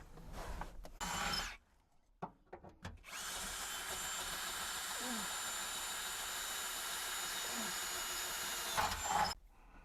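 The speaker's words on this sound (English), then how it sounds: "We're going to drill this hole" Power drill boring a hole in a Subaru BRZ car body for harness eyelets, short bursts at first, then one long steady whirring run, close up.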